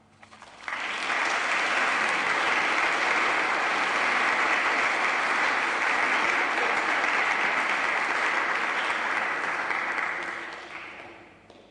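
An audience at a university inaugural lecture in Liverpool bursts into sustained applause that swells quickly, holds steady for about ten seconds, then fades away.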